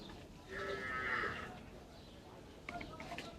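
Cattle at the Gabtoli cow market in Mirpur, Dhaka, give a drawn-out moo over a steady background of market crowd noise, followed by faint scattered clatter.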